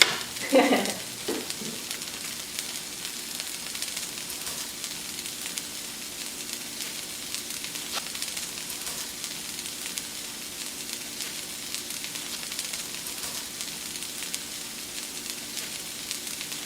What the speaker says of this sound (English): we're just gonna brown it like we would any type of ground meat